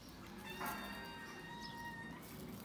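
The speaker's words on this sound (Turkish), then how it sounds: "Kediler birbirlerini kavga edecek." Cats meowing and yowling outdoors as they square up to fight, a drawn-out wavering caterwaul heard at moderate distance over steady background noise.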